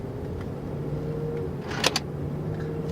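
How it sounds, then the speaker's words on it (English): The doors of a 1999 BMW 740i M-Sport lock while it is driving, making a quick pair of soft mechanical clunks over the car's quiet, steady road hum. "Those are the doors locking."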